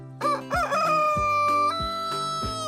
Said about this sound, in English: Oh, like, cock-a-doodle-doo in the morning?